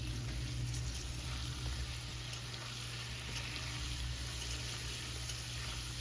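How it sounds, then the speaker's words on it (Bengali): Potatoes fried in hot oil in a wok, seasoned with salt and turmeric, give a steady, even sizzle throughout with a constant low hum underneath and no voices. "কড়াইতে তেল গরম করে এখন আমি আলুগুলোকে ভেজে নিচ্ছি"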